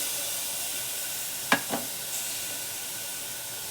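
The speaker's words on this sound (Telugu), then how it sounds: "ఈ టమాటా ముక్కలు ఇందులో వేసిన తర్వాత టమాటా ముక్కలు త్వరగా వేగాలి" Tomato pieces fry in a thick-bottomed pot, a constant moderate sizzle with a couple of quick clinks from a spoon partway through.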